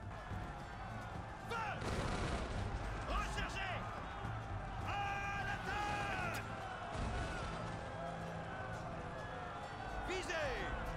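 Cannon fire from the Imperial Glory strategy video game booms intermittently through a busy battle din of thuds and crashes, while someone talks over it throughout.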